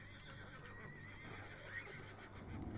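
Horses whinny and hooves clatter in the samurai strategy game Battle Realms, buried in a dense, steady wash of game noise with no clear separate calls.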